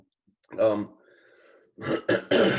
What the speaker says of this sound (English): I apologize to everybody for my coughing.